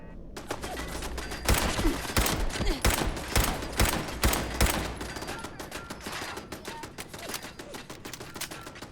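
Turret gunfire in the Fallout 4 video game: rapid bursts of automatic shots, loudest and densest in the first half, then thinning into quieter scattered fire with faint voice underneath.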